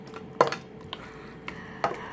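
Vegetable mixture scooped into a 9x13 casserole pan, a few soft clinks and scrapes of a utensil against the dish with wet squishing, close and quiet.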